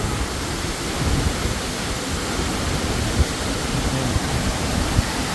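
Kuang Si Falls in Luang Prabang, Laos roars in a steady, dense broadband rush of falling water with heavy spray, close and loud throughout with no voices.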